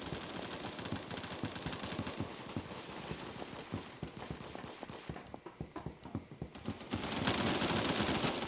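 Bursts of automatic gunfire in the Roblox game Phantom Forces, rapid rhythmic shots in quick strings, fairly loud, dropping into sparser pops before a final louder burst.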